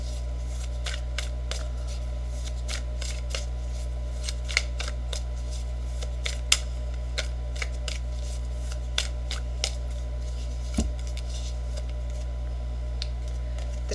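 Tarot cards being shuffled and handled: soft, irregular papery flicks and taps close by, over a strong steady low hum.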